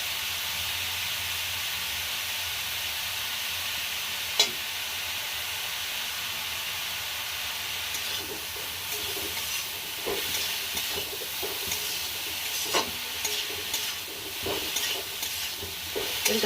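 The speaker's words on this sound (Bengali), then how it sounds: "গাজরটাকে আমি 10 মিনিট মতো এরকম নাড়িয়ে চাড়িয়ে ভেজে নেব সুন্দর করে" Grated carrot fries in ghee in a pan for carrot halwa while being stirred, giving a steady soft sizzle with occasional scraping and tapping of the spoon, close and continuous, with no talking.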